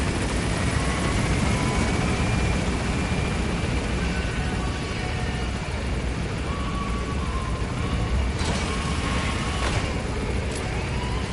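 An extraction helicopter climbs in Metal Gear Solid V: The Phantom Pain, a steady, loud rotor roar and engine whine that fills the scene without a break, with faint higher tones drifting underneath.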